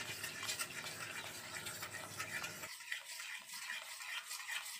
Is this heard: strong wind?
no